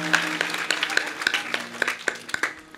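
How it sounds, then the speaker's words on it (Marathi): An audience claps along in steady rhythmic unison at a Marathi kirtan, a bright regular beat of hand claps with a faint drone of music underneath. "टाळ्या वाजवा सर्वांनी एकदा."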